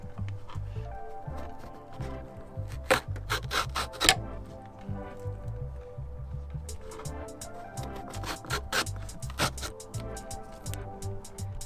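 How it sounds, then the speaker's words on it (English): A vegetable peeler scrapes strips from a zucchini in an RV kitchen, producing repeated rasping strokes in two bursts of rapid scraping, close and fairly quiet, with no talking. "grab the zucchini, put your peeler down, and just get nice strips"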